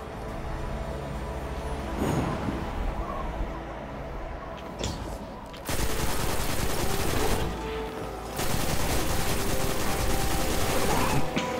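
Rapid gunfire in Destiny 2 comes in long, loud, dense bursts with mechanical clatter and heavy recoil, starting and stopping abruptly, with a voice talking faintly underneath.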